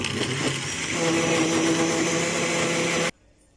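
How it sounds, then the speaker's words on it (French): A blender grinds tomato with a loud, steady whirring roar for about three seconds, then cuts off abruptly into near silence. "On va broyer également notre tomate."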